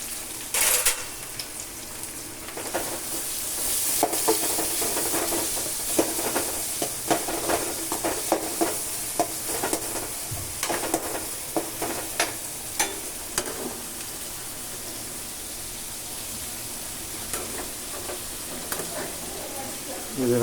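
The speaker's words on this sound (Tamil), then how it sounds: "இப்போ ஆயில் சூடானோடனே நான் கட் பண்ணி வச்சது ஆனியன், கருவேப்பிலை, பச்சை மிளகாய்" Chopped onion, curry leaves and green chilies hit hot oil, giving a loud sizzling hiss with repeated sharp crackles and stirring clatters, strongest early on and settling into a steadier fry.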